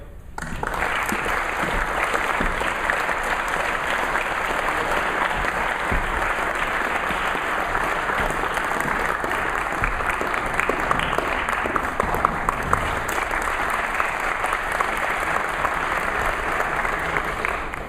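Audience applause welcoming a 12-year-old conductor and double bass player before a band's performance of Sousa's Gladiator March: sustained, even clapping from a crowd filling the room for nearly eighteen seconds.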